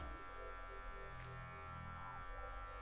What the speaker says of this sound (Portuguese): Vou usar aqui a ponta da máquina aqui, só para tirar algumas marquinhas